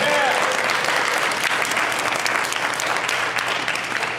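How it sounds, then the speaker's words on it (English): A round of applause from the crowd at a CraveCon 2016 gaming panel, a loud, sustained burst of many hands clapping that holds steady throughout. "Round of applause, everybody."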